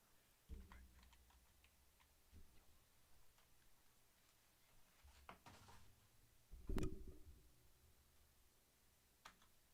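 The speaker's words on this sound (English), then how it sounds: "Now I'm gonna type something in the chat." Computer keyboard typing while entering a chat message for a stream, sparse faint key taps and a few heavier thumps at irregular intervals in a quiet room.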